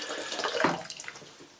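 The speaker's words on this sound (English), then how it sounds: "add just off the boil water from the kettle" Just-off-the-boil water, about 1.5 litres, pours from a kettle onto clay dug from mud, a steady splashing gush that swells midway and then tapers off.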